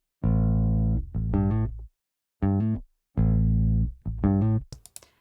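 A clean, dry bass guitar plays a short riff of sustained low notes with brief gaps between phrases, heard alone.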